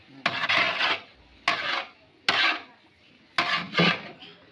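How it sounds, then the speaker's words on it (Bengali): A large pot of pulao rice is stirred and turned for a wedding feast, producing four bursts of close scraping and rustling, each about half a second to a second long, with short quiet gaps between. "এই দেখতে পাচ্ছেন পোলাও ভাতগুলো একটু নেড়ে চেড়ে দেওয়া হচ্ছে।"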